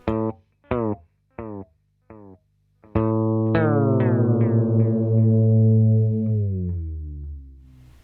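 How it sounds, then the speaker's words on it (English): A few short, clipped guitar chords, then a sustained chord whose pitch sags and slows downward like a tape stop before fading out, made with an envelope-controlled Fractal FX8 delay. "it's like a tape stop"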